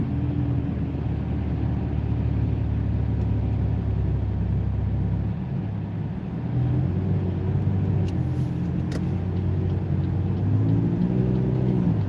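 A car accelerates while changing lanes on a road, its engine rumbling steadily and then rising in pitch as speed builds, heard from inside the cabin with no talking.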